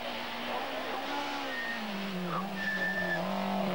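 A Mazda rally car racing on a special stage of the Rally of Poland, with its engine note rising and falling through gear changes, continuous and moderately loud with no voices.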